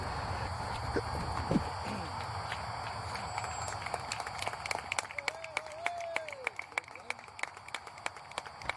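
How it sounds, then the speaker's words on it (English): Spectators at a youth baseball game give scattered, fairly distant applause as an injured player gets back up, with a voice talking over it. "And applause, including from yours truly, as Jorge gets back up."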